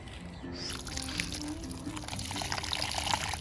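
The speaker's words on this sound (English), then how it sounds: "But I'm gonna moisten the soil as I go." Water poured into potting soil in a container for a hosta root, a close steady trickling pour that builds gradually and continues throughout with no talking.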